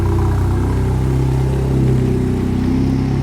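A VW Mk8 Golf R exhaust with resonator and OPF delete idles with a loud, deep, steady rumble up close, swelling slightly partway through. No voices are present.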